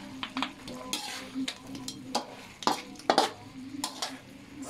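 Texas triple spicy chicken adobo with siling labuyo, chili powder and hot chili sauce sizzles in a pot, soft bubbling and frying crackle broken by repeated clinks and scrapes of a utensil stirring against the metal.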